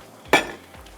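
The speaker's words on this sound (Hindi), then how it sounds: "ध्यान से आप इसका ढक्कन हटाइए" A single short metallic clink and clatter as the lid comes off a steamer holding a small pudding basin with steamed orange cake, fairly quiet and close, with no talk.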